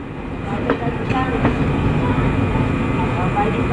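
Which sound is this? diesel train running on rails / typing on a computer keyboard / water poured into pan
diesel train running on rails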